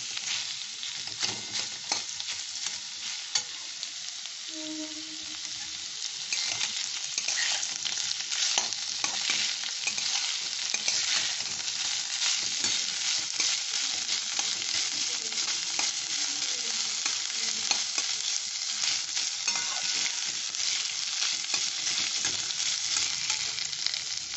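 Salted chicken filling for kachori frying in a pan, a dense, continuous crackling sizzle with scraping stirs throughout, close and steady with no talk.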